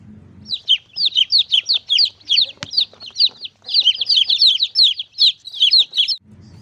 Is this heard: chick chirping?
yes